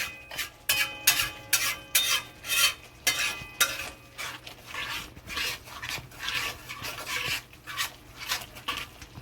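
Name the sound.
stirring egg masala mixture in a pan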